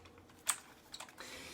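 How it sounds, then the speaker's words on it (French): Keys of a Docooler A-Jazz AK33 gaming keyboard pressed, a few sharp, quiet clicks and taps in a near-silent room, with one louder strike early on. "Le bruit des touches, elles sont dures"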